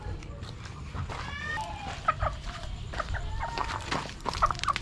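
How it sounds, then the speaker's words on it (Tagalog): Several chickens cluck and squawk close by, busy overlapping calls with scratching and movement sounds around them. "Sisigla ng mga manok natin oh."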